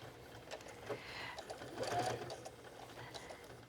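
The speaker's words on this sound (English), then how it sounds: "I'm going to back up here and back stitch." Sewing machine back stitching with brown thread while securing hook and loop tape on a fabric wallet, a quiet steady mechanical whir with a brief shift in pace midway.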